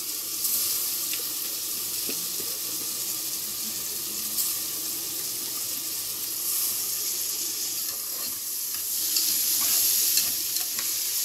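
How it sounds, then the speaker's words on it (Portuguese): Rice and onion sautéing in a pan for a simple home lunch, a steady close sizzle with faint stirring and scraping throughout, no voices. "a cebola está refogada. Agora eu vou colocar o arroz."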